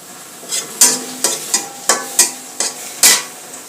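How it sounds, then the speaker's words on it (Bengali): Onions and chili frying lightly in oil in a home kitchen, with a soft sizzle under a string of sharp spatula taps and scrapes against the pan in an irregular rhythm, close by and without talk. "তেল দিয়ে একটু হালকা ভাজে নেব।"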